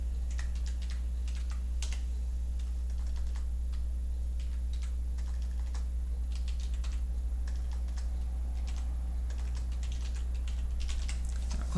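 Rapid, steady computer keyboard typing with crisp clicking keystrokes, some keys including Ctrl pressed, close and continuous over a low constant hum, with no talking.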